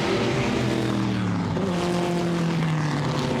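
A smoky historic race car running up to the line at Goodwood's 75th Members' Meeting, with a loud, steady engine drone and sustained pitched tones, close and unbroken, no voices.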